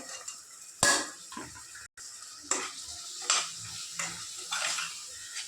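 A spoon stirs beans and carrots in a cooking pot, with scraping and clinking strokes at irregular intervals over a soft sizzle, close and moderately loud.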